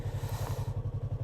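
A Yamaha R3 sport motorcycle engine-brakes during a downshift, giving a close, loud low pulsing drone with an even rapid rhythm that stays steady throughout the short stretch.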